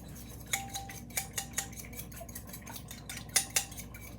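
A spoon clinks and scrapes against a bowl while stirring copycat Arby's sauce until combined, a series of light irregular metallic taps and swishes, close and quiet.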